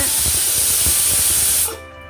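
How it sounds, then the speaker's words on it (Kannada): A pressure cooker holding donne chicken biryani lets out one loud, close, sustained steam whistle and hiss that cuts off abruptly near the end, leaving a quieter background. "ದೊನ್ನೆ ಬಿರಿಯಾನಿಗೆ ಒನ್ ವಿಸಿಲ್ ಬಂದರೆ ಸಾಕಾಗುತ್ತೆ"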